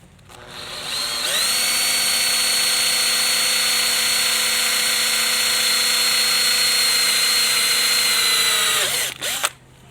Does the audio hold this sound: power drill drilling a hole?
yes